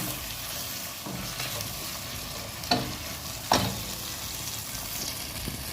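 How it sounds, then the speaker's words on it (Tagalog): Vegetables and chicken sizzle steadily in a hot pan, with a couple of sharp scraping stirs cutting through the continuous frying hiss. "habang ginigisa natin yan guys, pwede na natin isabay yung chicken"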